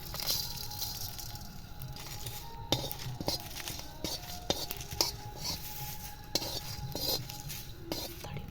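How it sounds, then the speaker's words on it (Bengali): Whole spices, including cardamom and dried red chillies, rattle and scrape around a dry wok as they are stirred, with sharp clinks of utensil against metal over a soft steady hiss. "এবার আমি শুকনো কড়াইয়ে ভেজে নেব হালকা করে"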